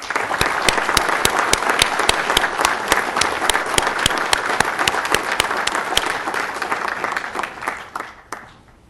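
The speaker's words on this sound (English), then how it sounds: "We congratulate all these awardees by applause." Graduation audience applauding awardees at a 2012 commencement ceremony, sustained loud clapping from a large crowd with sharp claps standing out, fading away over the final second.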